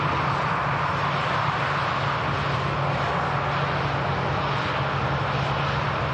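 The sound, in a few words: KLM airliner lining up at Manchester Airport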